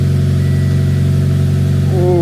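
A Subaru BRZ engine runs loudly at idle with a steady low drone, then revs upward near the end, close to the microphone during a steering wheel installation.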